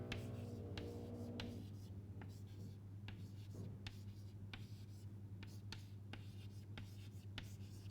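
Chalk or a pen taps and scratches in short rhythmic strokes while writing words during a lecture, faint and close, over a steady low hum in the room.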